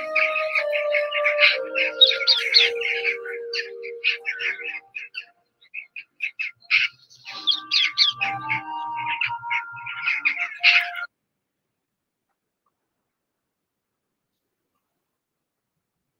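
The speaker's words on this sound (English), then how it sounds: "parakeets are very social, active, and outgoing birds" Parakeets chirping in a busy flurry of high, sharp tweets and squawky calls for about eleven seconds, overlapping and clustered close, then falling silent.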